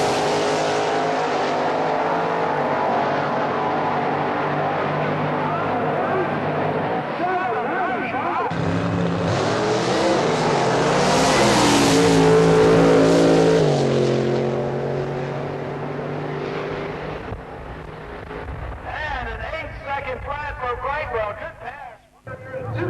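A supercharged drag racing car roars hard off the starting line on a wheels-up launch, its loud engine note rising and swelling mid-clip before fading, with an announcer commentating over it.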